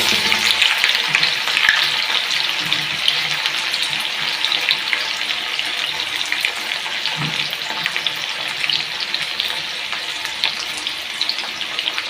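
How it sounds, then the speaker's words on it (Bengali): Chopped onions with whole cumin fry in hot oil, giving a loud, steady, dense sizzle that runs unbroken throughout, close to the pan. "পেঁয়াজটা হালকা লাল লাল করে ভেজে নেব।"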